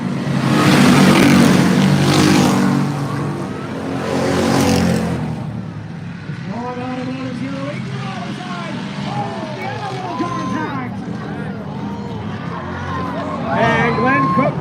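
Stock cars roar through a heat race at Buds Speedway in Cape Breton, Nova Scotia, with loud engine drones and revs from several cars sweeping past, while a voice talks over the engines throughout.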